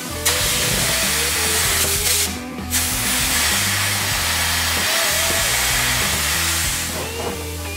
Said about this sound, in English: I'm going to drill the mold with a 5-inch drill bit.